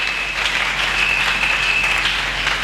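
A church congregation applauds loudly and continuously, a dense sustained wash of clapping for Jesus with a faint high whistle or cheer riding over it.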